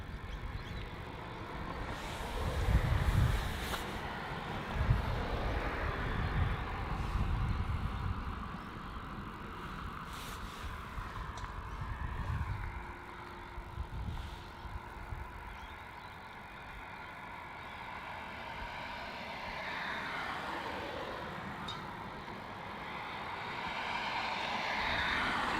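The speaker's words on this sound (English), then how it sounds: "it looks like that Dash 8 is now going onto the runway there" A Qantas Link Dash 8 Q300 turboprop taxis onto the runway at Melbourne Airport, its engines giving a steady low rumble at moderate distance with a faint tonal hum, swelling briefly early on and again toward the end.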